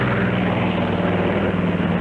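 Steady, loud propeller aircraft drone used as a sound effect in an old TAA airline radio advertisement, a continuous engine roar with no talk over it.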